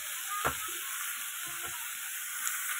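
Food fries in a pan with salt and turmeric added, giving a constant bright sizzle. A few brief scrapes and knocks come from stirring, with one sharp clatter early on, and no voices are heard.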